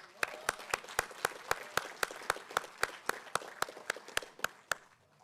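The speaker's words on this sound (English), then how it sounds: "please give ourselves and all of you a round of applause" Applause from the audience at a city State of the City address in Monrovia, sounding as steady, even, rhythmic clapping from the crowd that fades out toward the end.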